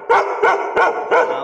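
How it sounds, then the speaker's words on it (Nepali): A Bhote, the Nepali mountain dog, barks four times in a steady rhythm, each bark loud, deep and close by, with short gaps between them and no talk. "नेपालको अब नम्बर वान कुकुरै भोटे कुकुर"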